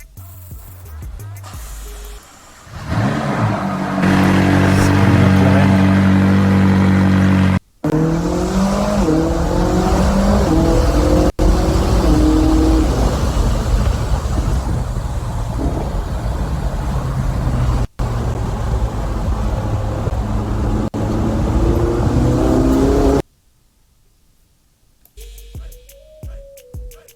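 An Audi RS6 engine revs loud and close, roaring up through repeated gear changes with sharp breaks between pulls. It settles to a quieter idle near the end.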